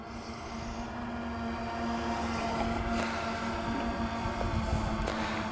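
A FireFLY6 VTOL drone hovers in strong wind, giving a continuous droning motor hum with a steady tonal whine under broad wind rush. The sound stays fairly even throughout, with no voices.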